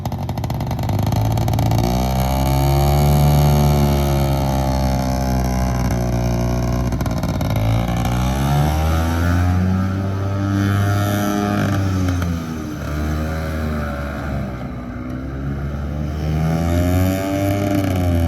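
A 1970s Attex 6x6 ATV's small engine runs close by after a pull start, its buzzing note revving up and dropping back repeatedly, in bursts of changing pitch throughout.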